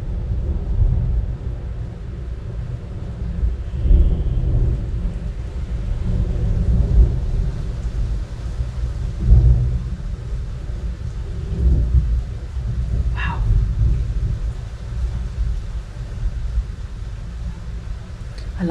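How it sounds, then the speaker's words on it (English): Thunder during a thunderstorm rolls as a deep, continuous low rumble with swelling peaks, steady rain noise underneath, and no talking. "Oh my God, that thunder."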